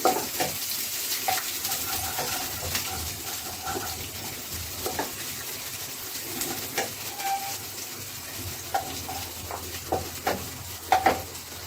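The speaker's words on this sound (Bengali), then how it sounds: "হাফ কাপ পরিমাণ পেঁয়াজ কুচি পেঁয়াজটা একটু নেড়ে চেড়ে দেবো" Chopped onion is stirred in a frying pan for shrimp pulao, a low steady sizzle punctuated by a series of sharp spatula scrapes and clinks at irregular intervals, with no talking.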